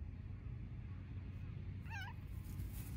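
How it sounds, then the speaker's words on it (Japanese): A stray cat at the seaside gives a single short, faint meow midway, over a steady low rumble of surf and wind. "猫。"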